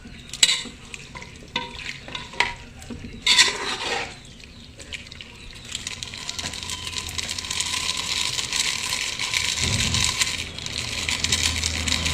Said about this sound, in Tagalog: Saka haluin at takpan.